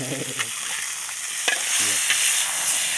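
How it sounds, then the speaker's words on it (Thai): Pork frying over a high, flaring flame in a wok, a steady loud sizzle with scraping stirs and a few sharp clatters across a short burst. "เรากำลังทอดหมูนะทอดหมูไฟแดง"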